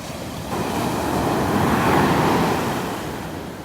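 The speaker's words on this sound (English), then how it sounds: "Love those waves." Ocean surf on Vanderbilt Beach, a broad rushing wash of waves swelling and receding, with some wind noise and no speech.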